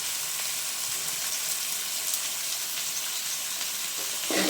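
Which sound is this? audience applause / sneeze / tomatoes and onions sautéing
tomatoes and onions sautéing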